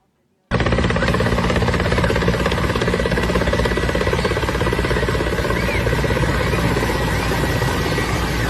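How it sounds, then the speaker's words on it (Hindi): Helicopter hovering low over water during an intense drill dropping special forces troops, a loud, steady rotor and turbine roar that starts abruptly and holds constant throughout. "हेलीकॉप्टर से ड्रॉप कर रहे हैं वो पानी में।"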